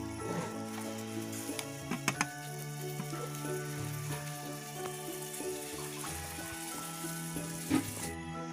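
Vegetables fry in a pan with a steady sizzle and bursts of crackle, close and loud. Stirring clatters sound briefly over the frying.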